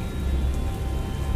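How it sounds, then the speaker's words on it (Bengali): Heavy rain pours down in a dense, steady hiss and rumble, a short burst of downpour used as a sound effect in a horror story. "বৃষ্টির বেগ হঠাৎ খুব বেড়ে গেল।"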